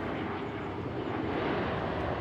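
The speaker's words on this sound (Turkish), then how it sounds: "Baktın mı uçağa?" A fixed-wing airplane flies overhead outdoors, a continuous broad engine rumble and rush that stays loud and even throughout, with no talk.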